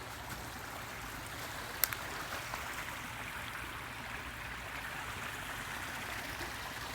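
A marsh stream flows with a soft, continuous rushing wash along a hiking trail, faint and steady, with a single brief click near the start and no voices.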